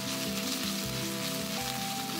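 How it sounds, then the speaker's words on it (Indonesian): Chicken pieces fry in hot oil with spice paste, a steady loud sizzle with crackling running unbroken throughout and no voices. "kita akan masukkan ayamnya dan kita akan goreng sesaat lagi ya, sampai agak kering gitu"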